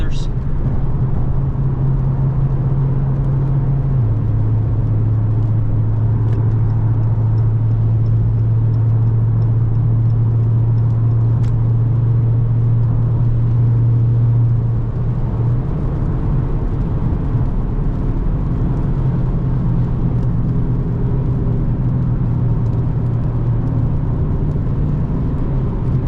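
A Dodge Charger R/T drives through the rain, its engine a steady low drone heard from inside the cabin, shifting pitch slightly as gears change, with a continuous whir of tires and rain beneath it and no clear talk.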